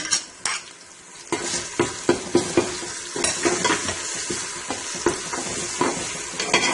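Ginger garlic paste sizzles and fries in a hot pan while a spoon scrapes and stirs it in repeated clinking strokes, close up with no talking.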